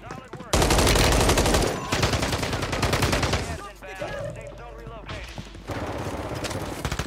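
Rapid automatic gunfire in a shooter video game, loud dense bursts that stop and restart several times, with short gaps and a voice speaking between volleys.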